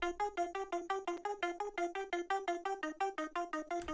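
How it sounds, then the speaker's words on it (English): Serum synth arpeggio layer with a bit crush effect gives a crisp, gritty sparkle to a rapid, even run of short plucked notes, heard alone at moderate level. "So this is from Serum, and it's really like adding a little bit of high-end sparkle because it has a bit crush effect on it"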